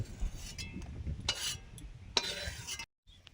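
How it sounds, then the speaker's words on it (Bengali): Sliced ridge gourd is stirred in a kadai with mustard oil, a spatula scraping and clinking faintly in short strokes over a soft sizzle before a brief drop to silence. "কাটা ঝিঙেটা কড়াতে নাড়বো, সরষের তেল দিয়েছি।"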